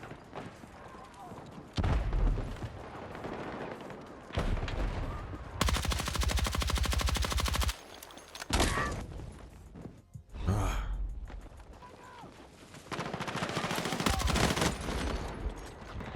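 Gunfire from an MP5 submachine gun in the shooter game Battlefield 6, heard as loud bursts of automatic fire mixed with other battle noise and explosions, alongside a voice.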